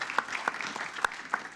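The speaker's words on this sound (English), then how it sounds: "Let's give her a big round of applause and staff for putting this together." Sparse, quiet clapping at a city council meeting, a few distinct hand claps spaced irregularly rather than a full ovation, fairly distant.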